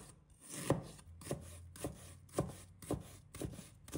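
A knife chops fresh ginger into strips on a cutting board, giving about eight crisp, evenly spaced chops close up with quiet gaps between them and no talking.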